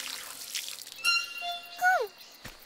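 Cartoon water poured from a watering can over flowers on a hot day, a bright splashy trickle with whistly falling tones, fairly close, next to a few soft voices.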